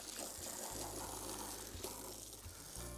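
Clean water pours and gushes steadily in a muddy pig pen outdoors, a continuous splashing rush heard close up with no talking.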